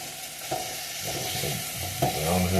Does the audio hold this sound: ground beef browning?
yes